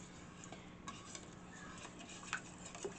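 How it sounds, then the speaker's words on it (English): Faint stirring of olive clay into melted soap base, with light clinks and scrapes of a utensil against a container, quiet and intermittent. "now we're just going to stir it in"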